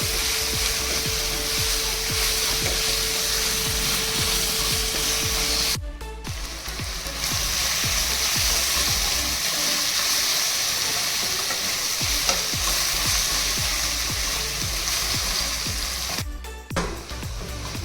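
Pav bhaji masala roasting in a hot pan, a dense continuous sizzle close by with rapid scraping and stirring strokes, two brief dropouts interrupting the steady frying.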